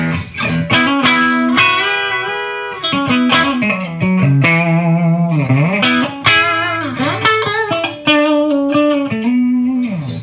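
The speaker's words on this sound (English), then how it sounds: "I'm using a low gain setting on the clean channel here." Electric guitar through a Marshall JVM210 tube amp on its clean channel at low gain, played as a run of sustained notes and sliding phrases, loud and close with a slightly warm edge and no talking.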